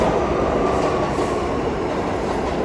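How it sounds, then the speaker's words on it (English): A subway train rides along with a steady, loud rumbling roar and faint track clatter, heard from inside the car, continuous and close. "I gotta hop on this train."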